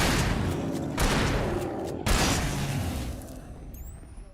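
Gunfire in the video game Alan Wake: loud booming shots, with bursts near the start, at about one second and at two seconds, each followed by a decaying rumble that fades out by the end.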